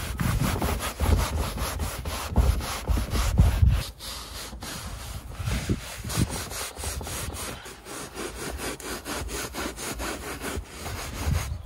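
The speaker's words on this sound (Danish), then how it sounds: "Jeg tager lige kluden her først." A cloth rubs and scrubs the body of an old VW T3 camper van in steady back-and-forth strokes, close and fairly loud, with no talking over it.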